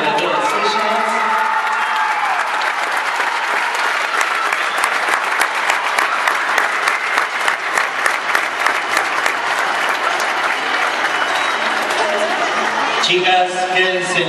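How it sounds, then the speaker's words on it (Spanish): Loud, sustained applause from a crowd for a group of dancers after a final choreography, dense rapid clapping holding for many seconds with a few cheers, then cutting off abruptly into music. "un aplauso muy fuerte para todas ellas"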